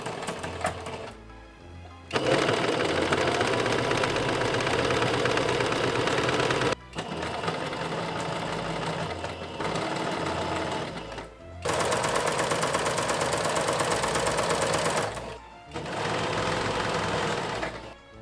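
Sewing machine fitted with a ruffler foot stitches fabric ruffles in loud, rapid mechanical bursts of several seconds each, separated by short pauses, with no talk.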